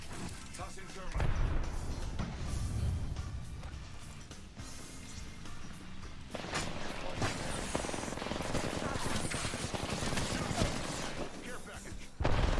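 Bursts of rapid video game gunfire and impacts crackle in a busy, continuous mix, with a player talking over the action and a sharp loud hit at the very end.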